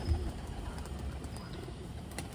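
A Malwai breed pigeon cooing, low throaty coos running continuously, close and moderately quiet with faint background noise.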